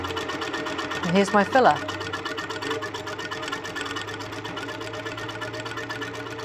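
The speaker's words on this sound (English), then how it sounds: "now I'm going to sew much slower." A longarm quilting sewing machine stitching slowly, its steady mechanical hum running throughout beneath a person talking, with a brief louder mechanical swell partway through.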